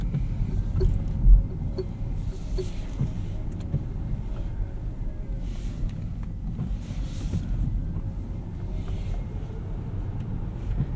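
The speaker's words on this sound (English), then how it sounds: "The electric motor noise sounds futuristic and special." A 2025 Lucid Air Touring electric sedan driving under one-pedal regen: a soft, steady cabin hum and low road rumble with faint shifting tones, continuous and fairly quiet, no voices.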